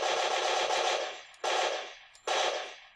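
A weapon fires in a first-person shooter video game built with the UFPS toolkit: a long rapid burst, then two shorter bursts, each cut off with a fading tail, loud and close.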